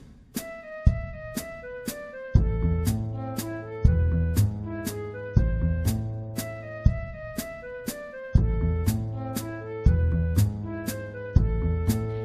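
Orchestral arrangement of Beethoven's Für Elise recast in triple meter, with sharp accented attacks and sustained low chords pulsing in a regular three-beat rhythm, full and steady throughout with no voices.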